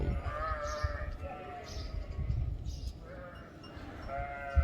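Several sheep bleat at a moderate distance, calls repeating every second or so over steady low wind rumble.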